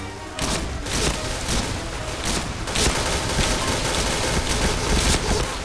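Dense, continuous automatic gunfire in a first-person shooter game, loud and close, with overlapping bursts and booms that barely pause.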